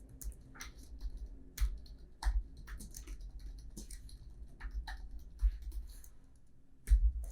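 Light, irregular clicks of a computer keyboard while JavaScript code is typed, soft taps in uneven bursts with a few heavier keystrokes, close and quiet with no speech.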